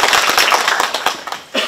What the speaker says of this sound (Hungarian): Köszöntjük őt egy tapssal!